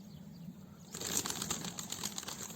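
Startled birds suddenly take off from a walnut tree outdoors, and a burst of fluttering wingbeats rises out of quiet ambience and carries on as a steady flapping rush.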